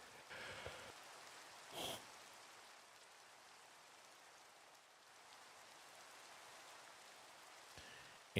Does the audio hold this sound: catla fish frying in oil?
no